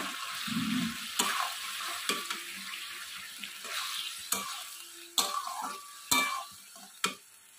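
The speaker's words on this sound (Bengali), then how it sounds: "চিকেনগুলো দিয়ে আমি নাড়বো।" Chicken pieces for Chicken 65 are stirred and fried in a pan, giving a soft sizzle punctuated by several sharp scraping and clinking strokes of a spoon.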